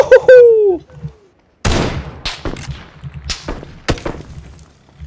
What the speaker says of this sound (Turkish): Çaprazdan sıkan var.